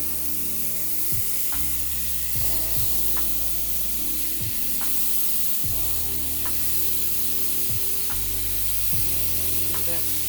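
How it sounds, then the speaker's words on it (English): Meatballs fry in a hot skillet, giving a steady, loud, continuous sizzle with occasional clinks and scrapes of a utensil in the pan, and no talking. "Get that sizzle."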